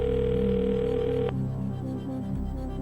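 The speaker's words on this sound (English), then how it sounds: "I think we're ringing her in Boston" A telephone call ringing out to Boston on a quiz show: a steady ring tone that stops partway through, then a humming line with low tonal background noise underneath.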